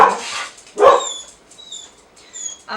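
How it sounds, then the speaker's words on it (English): Indoor dogs let out two sharp barks close by, then softer yips and whines trail off as the room goes quiet. "Don't mind the dogs."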